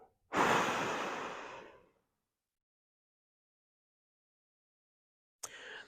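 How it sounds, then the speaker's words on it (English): Long, loud breath released through the mouth during a spine rehab stretch on a quad roller, a single sustained exhale of about a second and a half, then silence and a brief faint rustle at the end. "breathe out."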